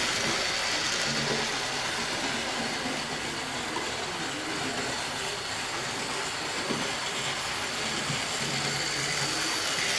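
A repaired plastic-geared toy model train running a lap on its track on a hard table surface: a steady, loud, close mechanical whir and rattling rumble that continues unbroken throughout.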